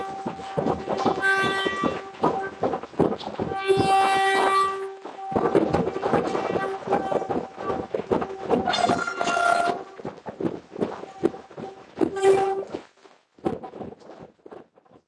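A Vande Bharat Express train's horns blare in several long blasts over crowd noise and clattering rail sounds, with people talking and cheering nearby.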